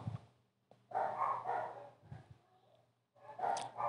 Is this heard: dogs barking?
yes